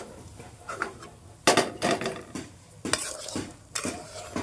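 A spoon stirs vegetarian potato curry (aloo dum) with dried red chilli in a pan, making several loud scraping strokes with short pauses, over a faint sizzle in the background.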